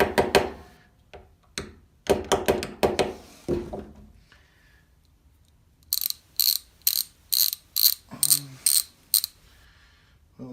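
Cover plate fitted onto an old Snap-on ratchet during restoration: a run of sharp metallic clicks and taps, then a bright, rapid series of evenly spaced ratcheting bursts, close and alone.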